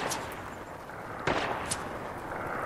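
Lever-action sniper rifle fire in Fortnite, a single sharp crack followed by a fainter second shot, set against steady game ambience.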